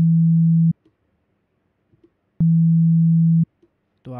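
A synthesized C5 sine-like tone made in FL Studio, buzzing like a vibrating phone, sounds in two steady, loud bursts, one short and one about a second long, separated by near-silence, with a faint clipped blip at the end.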